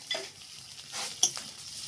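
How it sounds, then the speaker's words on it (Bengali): Spice paste of ground ginger, cumin and coriander being fried and stirred in a pan for snail curry, with soft sizzling and scraping strokes, one sharper clink near the end, close and fairly quiet. "ভালো করে মশলাটা ভেজে নেওয়া হচ্ছে।"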